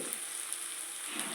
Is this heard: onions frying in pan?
yes